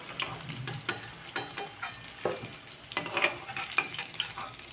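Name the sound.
deep frying Gokul pithe fritters in oil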